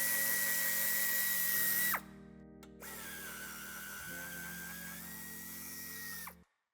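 A cordless power tool removes screws from a 2020 Opel Mokka during tow hitch installation, whining steadily up close in two long runs split by a brief pause, with the motor's pitch shifting as the screws loosen.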